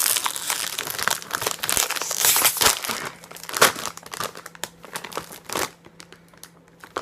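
A bag of Lay's wasabi ginger chips being opened, with close, dense plastic crinkling and a few sharper tearing bursts that ease into lighter rustles toward the end.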